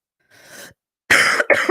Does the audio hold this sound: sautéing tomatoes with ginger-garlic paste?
no